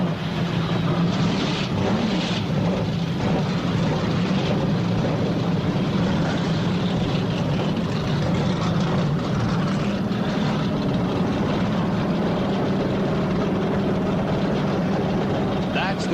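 Race car engines fire up and rumble together at the Talladega Superspeedway for the 1991 Winston 500, a dense sustained roar of many engines under a crowd and announcer talking.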